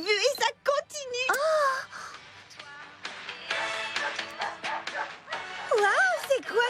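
A cartoon dog barks, yips and whimpers to a bouncy dance tune, its sharp, tonal calls repeating in bursts near the start and end over the ongoing music.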